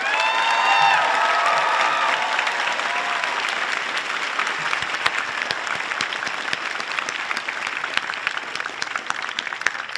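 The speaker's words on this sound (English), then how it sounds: "giving a round of applause for your family" A large commencement audience at the UC Santa Cruz Stevenson College ceremony claps steadily for families and friends, broad sustained applause with a few cheers and whoops mixed in, carrying on for the full stretch.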